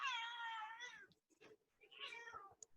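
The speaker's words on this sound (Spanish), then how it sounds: "Ahora mi gata." A female house cat meows clearly and close in a quiet room. One long, drawn-out meow is followed by shorter, softer chirping meows, with no talking.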